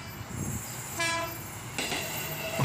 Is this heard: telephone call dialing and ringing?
no